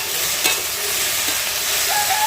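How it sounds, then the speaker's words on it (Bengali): Chopped okra fries in a pan with a loud, close, hissing sizzle that runs unbroken, marked by faint stirring clicks and no speech. "ভেন্ডিটা কুচিয়ে নিয়েছি, এবার ওটা ভেজে নেব।"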